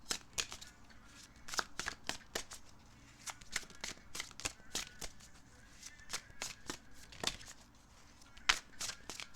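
Tarot cards are shuffled in quick, irregular riffles and soft snaps, close and quiet, repeating in bursts with short pauses between them.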